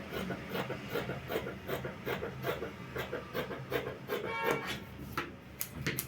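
Scissors or a blade trim through shirt fabric while a vintage camp-collar men's shirt pattern piece is cut out, giving a close series of rhythmic rasping snips and rubs repeating steadily throughout.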